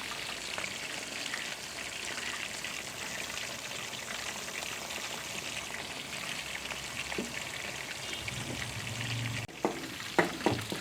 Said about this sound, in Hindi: इसको थोड़ा तेज़ ही फ्राई करना है, आँच तेज़ रख के।